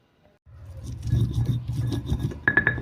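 Chili, shallots and garlic are ground into a paste by hand, a close scraping and rubbing sound with gritty crunching that builds after a short silence, ending with a few light knocks.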